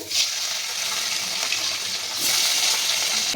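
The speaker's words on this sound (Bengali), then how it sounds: "মাছগুলোকে আমি ভেজে নেবো।" Pieces of katla fish rubbed with salt and turmeric fry in hot oil, a steady bright sizzle that swells at the start and again over the last second, close and uninterrupted by speech.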